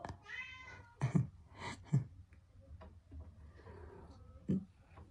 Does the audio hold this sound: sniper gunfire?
no